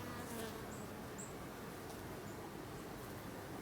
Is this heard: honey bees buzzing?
yes